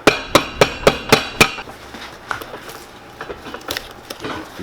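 Old cork filler being broken out of a John Lobb shoe during restoration, six sharp evenly spaced knocks up close, followed by softer scattered crumbling and small cracks.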